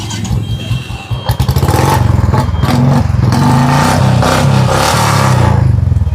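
A Royal Enfield Bullet Classic 350 motorcycle, a 2016 model, idles loud and close with a deep steady thumping beat and chattering clatter, starting up briefly before settling into a continuous rumble, no talking.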